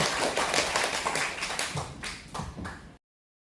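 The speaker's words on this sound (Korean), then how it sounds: "다시 한번 박수를 영광 하나님께 드리겠습니다." Congregational applause at a church opening worship service for a James lecture series: a thick, sustained wash of clapping from many hands that thins slightly before cutting off abruptly near the end.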